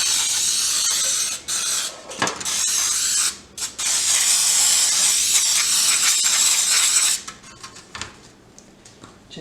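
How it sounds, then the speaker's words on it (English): An aerosol can of Baker's Joy baking spray sprays in long hissing bursts with short pauses between, close by and loud, plus faint rattling. "I'm going to use this Baker's Joy to spray it real quick"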